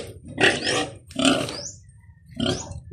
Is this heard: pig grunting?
yes